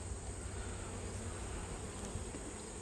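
Honeybees buzzing in an open beehive, a dense, steady drone from many insects close by, unbroken throughout.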